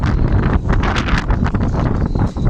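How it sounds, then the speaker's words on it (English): Force 8 wind roars and buffets the microphone in loud, continuous gusts, with a rushing, turbulent quality throughout. "Very windy."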